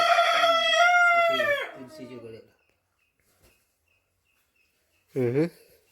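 A rooster lets out one long, loud crow close by, followed by silence and then a short second crow.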